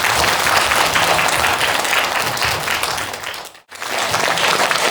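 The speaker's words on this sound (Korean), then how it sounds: "여러분 박수 한번 주세요." Dense applause from a seated audience at a Korean dharma talk, loud and steady, dropping briefly to a near pause before the clapping swells again.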